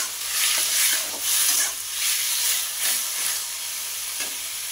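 Boiled bottle gourd is stirred into hot oil with cumin and bay leaves, giving a loud sizzle and frying hiss that swells in rhythmic bursts with each stir, close by and without talk.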